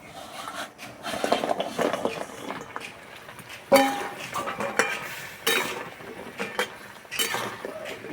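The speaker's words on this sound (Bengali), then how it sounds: "এইভাবে নাড়তে নাড়তে একটা শুকনো শুকনো ভাব হয়ে যাবে" Fried gaja being stirred in sugar syrup in a pan on the stove, with a spoon scraping and clattering against the metal in uneven strokes, plus one sharp clank, close and clear.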